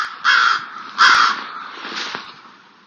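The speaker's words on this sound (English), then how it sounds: "I'm sure we all know what crows sound like" Crows give two loud, harsh caws close by, followed by a fainter third call, with a quiet gap between each.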